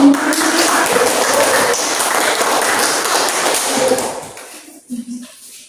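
Classroom audience applause after a group presentation, a dense steady clatter of clapping for about four seconds that fades into faint scattered taps.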